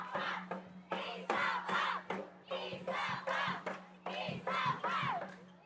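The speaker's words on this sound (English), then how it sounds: "Cheers from the crowd." Football crowd at a Philippines Football League match between Kaya FC-Iloilo and Manila Digger, a loud roaring, chanting swell in repeated surges over a steady low hum, filling the whole stretch.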